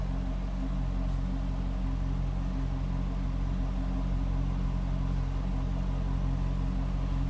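A 2005 Chevrolet Corvette coupe idles steadily, a low even engine rumble that continues without revving and without any voices.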